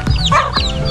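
Fighting cocks and hens in a backyard coop, clucking and calling close by in a steady stream of overlapping bird sounds, with one short crow-like call among them.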